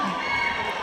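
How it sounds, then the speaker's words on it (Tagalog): Boxing-event crowd in Argao roaring with cheers, shouts and applause, a dense, continuous wall of voices at close range. "Palakpakan naman dyan na may kasama sigawan."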